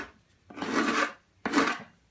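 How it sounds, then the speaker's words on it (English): A file is pushed backwards across the inner fiberglass layer of a handmade deep sea diving helmet. It gives two close, harsh rasping strokes, one long and one short, separated by a pause. "I'm using the file backwards. Yeah. That's one of those noises. It's almost like fingernails on the chalkboard."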